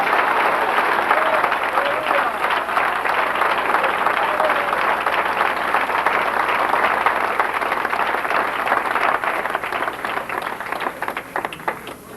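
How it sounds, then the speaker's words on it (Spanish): Church congregation applauding in worship, a loud, sustained wash of many hands clapping that fills the room and begins to thin out toward the end. "Denle un aplauso al Señor con todo su corazón"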